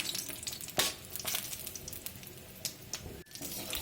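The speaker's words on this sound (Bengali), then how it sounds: "বড়িগুলো ভেজে নিচ্ছি ভালো করে লাল লাল করে" Bori, lentil dumplings, frying in hot oil until reddish for an aloo posto dish, a steady close crackling sizzle with a few sharp spattering pops and no talking.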